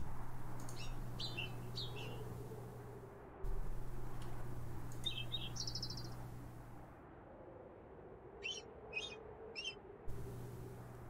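Short bursts of high-pitched bird chirps and tweets from a puzzle in the game Myha: Return to the Lost Island, several separate clusters of calls over a steady low hum of ambient background.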